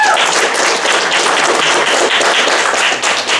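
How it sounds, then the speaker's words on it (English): Audience applause at a student video presentation evening, a dense steady wash of many hands clapping that fills the whole stretch at close range, with no speech over it. "So big round of applause for them."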